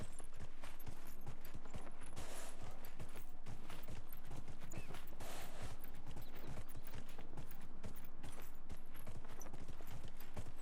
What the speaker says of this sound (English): There are no mods to increase horse speed, which I find shocking.